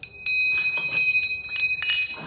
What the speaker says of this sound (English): I have all kinds of bells over here.